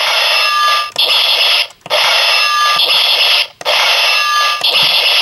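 A loud, shrill electronic sound effect from a Kaiten Jyuuken ToQBlaster toy plays in three repeated bursts separated by brief gaps, harsh and buzzy, close up.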